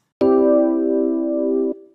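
A single add 9 chord played from MIDI in Studio One, sounding as one clean, electronic keyboard-like attack that sustains evenly for about a second and a half before cutting off, with no talking.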